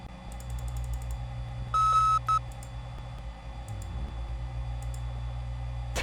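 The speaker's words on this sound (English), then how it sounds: "every time it beeps" Electronic beeps sound in the video game Amber: Journeys Beyond: a short train of faint ticking clicks, then a loud steady tone lasting about a third of a second, a brief second beep, and scattered quieter clicks over a low hum.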